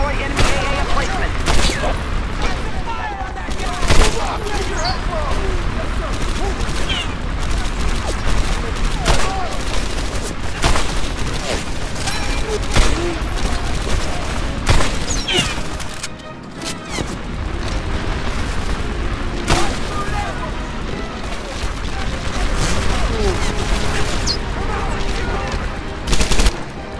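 Anti-aircraft guns pound away in a Medal of Honor Airborne battle, with dense, overlapping bursts of heavy gunfire and booming blasts in rapid, irregular succession, loud and close, briefly easing mid-way before resuming.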